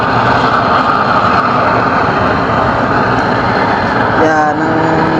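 A homemade stove burning used motor oil gives off a steady, loud, roaring rush of flame that continues unbroken and close throughout.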